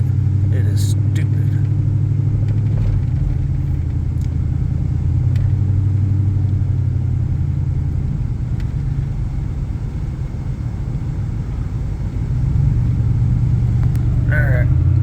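Engine of a 1998 GMT400 pickup truck rumbling steadily from inside the cab as it rolls over a speed bump, a continuous low drone with mild swells, talk over it at times.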